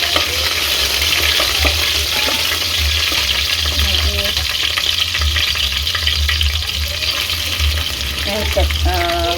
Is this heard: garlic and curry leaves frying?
yes